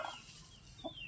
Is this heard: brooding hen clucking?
yes